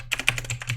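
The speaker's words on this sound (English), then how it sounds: "I can hear your keyboard." A computer keyboard typed on quickly, a short burst of close, crisp key clicks in an uneven rhythm.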